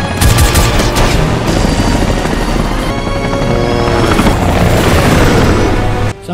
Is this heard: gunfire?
yes